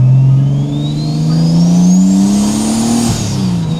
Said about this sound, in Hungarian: Új, de szépen süvít a turbó